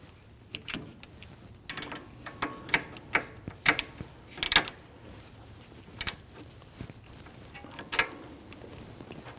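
Quick ratchet clicks tighten the brake caliper bolts on a 2013-2019 Ford Interceptor Utility, close and crisp in short irregular runs with brief pauses between strokes.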